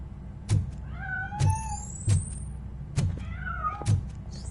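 A cat in the RoboCop game meows several times, with clear, close cries repeating at a steady pace over a faint low background hum, each paired with a soft thump.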